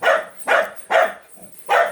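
A dog, likely a hunting dog, barking in four loud, evenly spaced barks about half a second apart, close by and with no voices over it.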